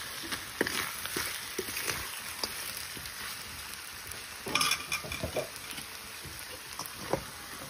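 Pumpkin pieces frying with potatoes in a pan give a soft, steady sizzle, broken by scraping stir strokes and occasional utensil clinks, quiet and close.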